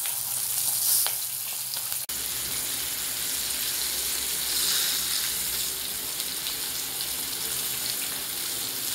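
Onions and curry leaves frying in a pan of hot oil for a South Indian sambar, a steady close sizzle with a sharp click near the start.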